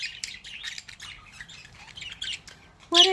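Pet budgies and lovebirds chirping and squawking in rapid, overlapping bursts close by, with a sharper louder squawk right at the end and no talking.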